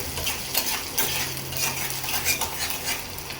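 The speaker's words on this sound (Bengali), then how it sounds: "একটু জিরা ফোড়ন দিই জিরা দিয়ে দিছি" Cumin seeds sizzle in hot oil as greens are tempered, a bright, crackling fry with repeated scraping stirs of a metal spoon against the pan and no talking.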